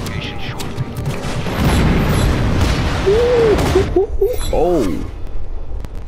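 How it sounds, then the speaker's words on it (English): A loud, rumbling explosion fills the first seconds in the video game Just Cause 3, followed by a brief vocal exclamation over the fading game sound. "That explosion killed me."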